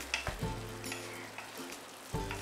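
Orange-coloured sweet rice, sakharbhat, is stirred in a hot pan, giving a steady close sizzle with a few soft scraping strokes of the spoon and no talking.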